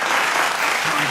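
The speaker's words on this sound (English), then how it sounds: "let's offer a heart clap to the couple of our Honorable Wenceslao and Jassy Manabat" Audience applause for the couple Honorable Wenceslao and Jassy Manabat at an Asia Pacific CheonBo Monday Club gathering: dense, steady clapping from a crowd, loud and continuous for the whole moment, with a faint voice underneath near the end.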